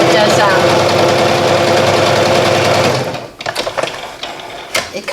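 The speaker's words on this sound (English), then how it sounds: "you can sew as it catches, sews and it catches" Domestic sewing machine running steadily through a stitch, loud and close, then stopping around three seconds in, leaving brief clicks and handling noises.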